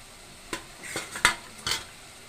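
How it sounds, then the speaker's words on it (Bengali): Metal lid set onto a cooking pot of fish curry with potato and eggplant, several close clattering clinks and scrapes in quick succession, the last ones loudest, over a quiet kitchen. "ঢাকনা দিয়া কষায় নিব।"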